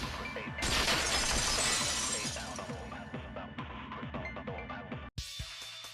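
A vase shatters in the video game Danganronpa: Goodbye Despair: a bright, loud crash of breaking pieces, then a scattering crackle that fades over a few seconds before a brief cut.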